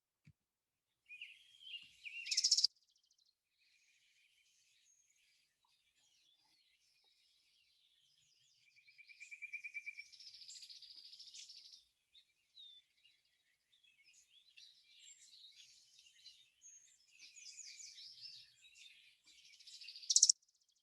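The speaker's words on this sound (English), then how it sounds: "A great example of a slowing song would be the orange crown warbler" Orange-crowned warbler song in short bursts separated by quiet gaps, high thin trills that seem to slow toward the end of each phrase, faint and clean against silence.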